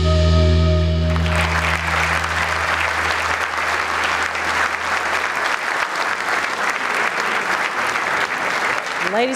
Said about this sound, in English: How about another round of applause for these lovely ladies?